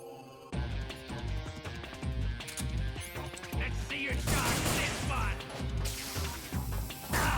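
Shotgun blasts and impacts ring out during a final boss fight in Metal Gear Solid 3: Snake Eater, with repeated loud bangs over busy game music and effects, and a voice talking throughout.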